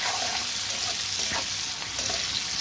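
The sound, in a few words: shrimp frying in a pan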